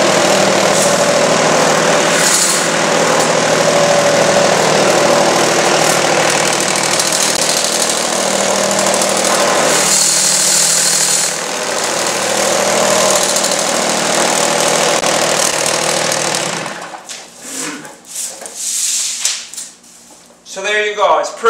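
A RugBadger rug cleaning machine runs across a rug, a loud, steady motor roar close by that keeps going for most of the span, then cuts out, leaving scattered handling noises and shifting sounds.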